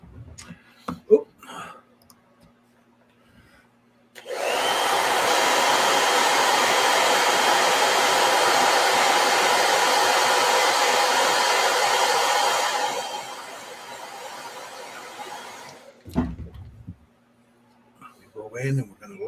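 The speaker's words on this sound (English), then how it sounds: "let me hit this with a blow dryer" A blow dryer roars steadily for about eight seconds during work on a From Heng model kit bust, loud and close, with quiet handling clicks and brief talk before and after.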